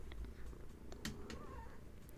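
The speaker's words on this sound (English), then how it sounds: "And I hear a Gertie cat." A quiet, close cat purr rumbles steadily, with a few soft clicks and rustles scattered over it.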